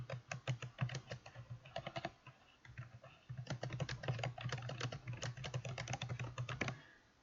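Rapid clicky tapping on a laptop keyboard, close and crisp, in two quick runs of keystrokes split by a short pause, with no talk.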